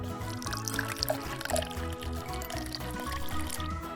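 Cooking oil poured in a miniature kitchen, a light, uneven trickling splash under a rhythmic background tune.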